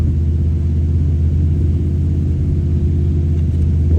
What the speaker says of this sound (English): Someone happened to come here and start their car in the middle of my video.